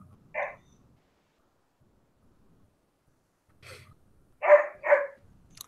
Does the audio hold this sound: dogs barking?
yes